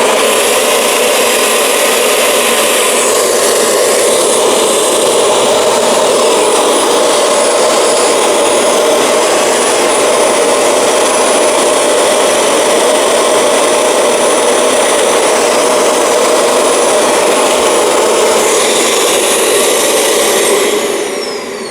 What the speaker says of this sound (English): we're going to be doing an airflow test with the Dyson Slim Ball Multifloor.